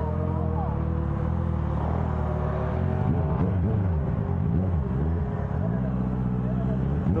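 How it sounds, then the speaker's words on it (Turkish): Loud motorcycle exhaust with a strong, rumbling harmonic drone that rises and falls through revs, continuous and close, with people talking over it. "Harbi egzoz sesi var la bayağı."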